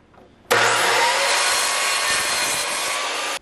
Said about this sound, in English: We're gonna aim for a center 5-inch cut both times.